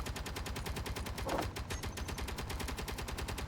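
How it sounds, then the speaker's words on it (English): Rapid automatic fire from a turret in the video game Escape From Pertam, a steady stream of evenly spaced shots hammering on without pause for several seconds, loud and close. "The turret's missing, that's why it's still shooting."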